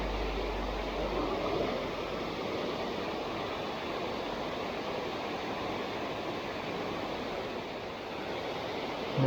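A waterfall pours among rocks, giving a steady, dense rushing roar close by that stays constant from start to finish, with no voices.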